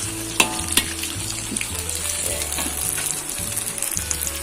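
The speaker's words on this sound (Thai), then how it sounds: "ทอดนะฮะทอดเต้าหู้นะครับ" Tofu fries in a pan with hot oil, giving a continuous close, loud sizzle and crackle with a few sharper pops throughout.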